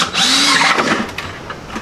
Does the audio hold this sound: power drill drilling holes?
yes